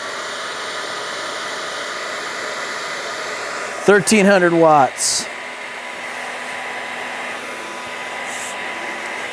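Hair dryer drawing 1,300 watts from an All Powers S2000 power bank, a steady loud whooshing blow running throughout, with someone speaking briefly over it partway through.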